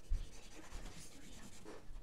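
A pencil shades a drawing of a horse on paper, a soft continuous scratchy rubbing with a few slightly louder strokes, close and quiet, with no speech over it.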